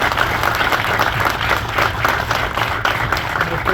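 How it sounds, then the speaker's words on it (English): An audience at the Atomic Golf venue opening applauds the speaker's family, with brisk, dense clapping and a few voices mixed in, steady throughout and close to the microphone. "Please give a round of applause for them because they really deserve it."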